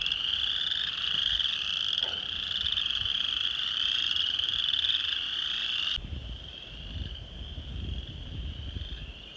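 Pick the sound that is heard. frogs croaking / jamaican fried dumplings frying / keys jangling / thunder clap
frogs croaking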